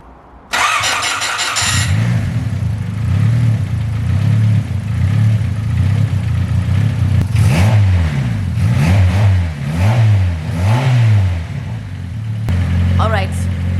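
A Honda car engine cranks and fires up at close range, then settles into a loud, steady run with rhythmic swells in pitch as it is revved several times, then drops back toward idle.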